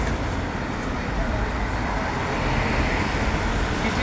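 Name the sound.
traffic on London Tower Bridge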